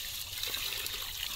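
Rice rinsed in water, a brief soft trickle and slosh of liquid up close, alone with no voices.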